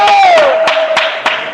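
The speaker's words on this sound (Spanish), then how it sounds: "¡Un aplauso!" At a women's padel league semifinal, the crowd cheers and whoops loudly with shouted voices and a few bursts of clapping, close and energetic over about a second and a half.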